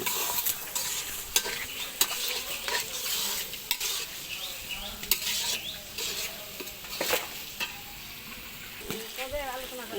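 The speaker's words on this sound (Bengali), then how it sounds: "সবগুলোকে একসাথে নেড়ে চেড়ে মিশিয়ে নিব" Ginger garlic paste stirred in a hot frying pan, with continuous close sizzle and repeated metal spatula scrapes and clinks against the pan, steady throughout.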